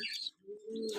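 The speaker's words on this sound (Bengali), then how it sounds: "এখানে আছে একজোড়া কবুতর।" Pigeons coo and chirp close by, a short soft call with a low sustained tone after a brief higher chirp, heard alone.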